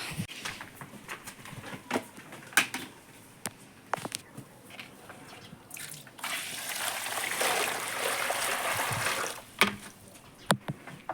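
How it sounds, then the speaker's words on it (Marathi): Water is poured out for cows to drink, building into a steady splashing gush for a few seconds amid scattered clicks and knocks, with faint birdsong in the background. "मग गाईंना पाणी पाजायचं होतं"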